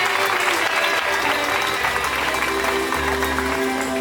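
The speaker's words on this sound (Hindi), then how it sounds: "हमें ताली बजाएंगे." A congregation claps at a bishop's consecration ceremony, a sustained, dense round of applause filling a large hall, steady and loud throughout, with faint voices mixed underneath.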